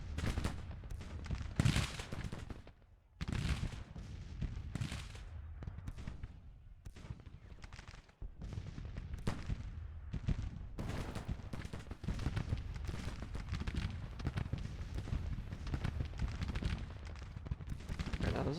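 An artillery battery and rifle gunfire echo through a Civil War infantry battle video game, with repeated booming blasts and crackling volleys in bursts, some near and loud, others distant, and no voices.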